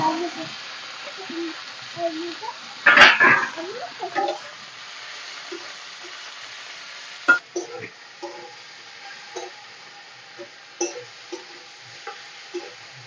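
Malabar spinach greens stirred in a hot pan with cumin, a loud sizzling burst as the leaves go in, then steady low frying with scattered scrapes and taps of the spoon.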